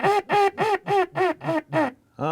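Duck hail call imitated by a voice cupped through the hands, without a duck call: seven loud, evenly spaced nasal quacks descending in a steady rhythm, then a brief pause and one more, close up with no talk.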